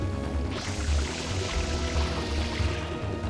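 Water spraying from the nozzle in Super Mario Sunshine, a continuous rushing, hissing gush that swells at the start and holds steady at moderate loudness over low rumbling game sounds.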